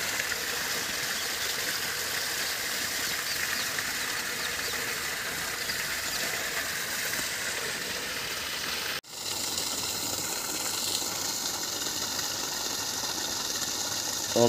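A 900W BLDC well pump motor, 2.5 inch, runs and pumps water with a steady, dense rushing and whirring drone that holds for the whole stretch and is broken once by a brief click and dip.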